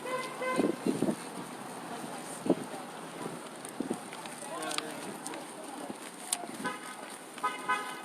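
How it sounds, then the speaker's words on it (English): Several car horns toot in short bursts in support of a street protest in Ocala, amid passing traffic and wind, with people talking nearby. "And you hear the honks of support."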